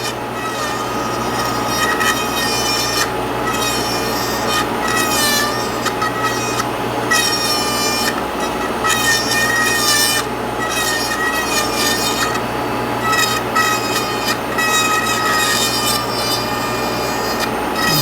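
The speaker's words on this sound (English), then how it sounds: "and then start grinding it out." Acrylic cold-cure denture being ground with a number 8 bur on a dental lathe or handpiece, a loud continuous high whine with rhythmic grinding surges over a steady motor hum, no voices.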